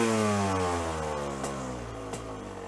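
A warmed-up carbureted motorcycle engine idles and then revs, its steady harmonic drone rising and falling in pitch as the throttle is worked, loud and close with no talking.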